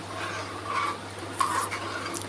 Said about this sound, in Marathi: असे नुसतं आपल्याला असं फिरवत राहायचं आहे